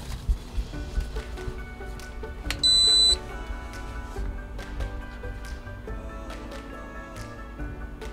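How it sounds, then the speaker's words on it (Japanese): An electronic alarm set for three hours goes off inside a 6th-generation Toyota HiAce camper van: a short burst of steady high beeps, moderately loud, over a low hum and light background noise. "3時間のアラーム鳴りましたので"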